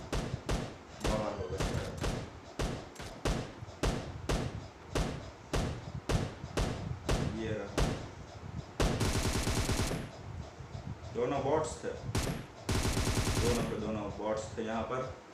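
Bursts of PUBG gunfire crack over and over in fast, regular shots, joined by denser automatic volleys near the middle and again toward the end. A voice speaks at times over the shooting.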